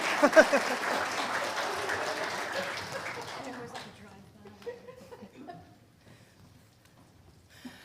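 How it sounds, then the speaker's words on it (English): A congregation at a Unitarian Universalist Sunday service claps steadily, then the applause thins and fades away into scattered claps and quiet. "one more round of applause for your home team leaders"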